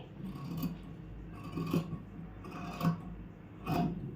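Scissors cut along the outer edge of a four-layer fabric sleeve with a rhythmic series of four rasping, crunchy snips about a second apart, close and moderately loud.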